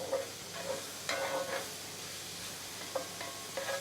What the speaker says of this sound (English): now let's go ahead and add our garlic, and we'll